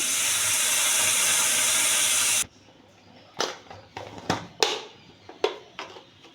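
Water hits a hot wok holding plums and five-spice for a sweet-sour chutney. A loud, steady hiss of steam lasts about two seconds, then cuts off sharply and is followed by a few scattered clatters.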